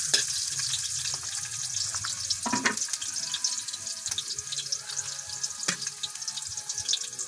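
Onions fry in a pan with a steady, bright sizzle close by, broken by a few louder spits and stirring scrapes.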